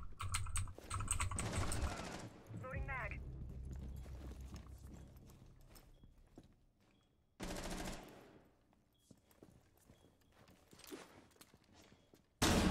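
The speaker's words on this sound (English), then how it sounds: "Hold on, hold on, I'm gonna type in Christine" A computer keyboard being typed on in bursts of rapid key clatter, with separate loud stretches and quieter pauses between them, heard close and without talk.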